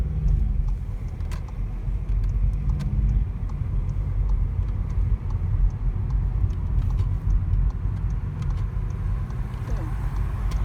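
A car with an automatic transmission rolls along during a driving lesson, its low engine and road rumble steady throughout, with voices talking over it intermittently.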